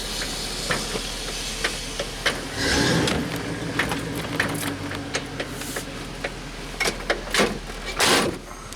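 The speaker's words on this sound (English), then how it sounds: "Door's rattling." Irregular rattling clicks and knocks from a rattling door of a 1991 GMC Jimmy while driving, over steady cabin road noise, with a brief louder whoosh of hiss around the middle and near the end.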